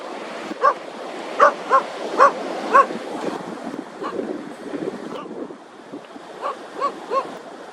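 A dog barks at the beach in short bursts, a quick cluster early on and a few more near the end, over steady crashing surf and gusting wind noise.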